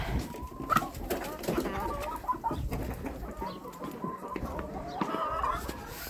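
Several chickens cluck and chatter nearby in a busy, irregular stream of short calls over a noisy farmyard background with ducks, on a cold spring day.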